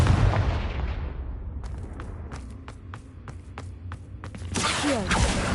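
Confringo blasting spell cast in the video game Hogwarts Legacy: a series of sharp, crackling bursts, then a loud fiery explosive roar near the end, over a steady low rumble.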